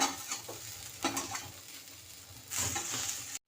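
Tomatoes sautéed in oil in a pan, stirred with a spatula: soft frying sizzle with scraping strokes, a louder burst of sizzle near the end before it cuts off abruptly, close and fairly quiet.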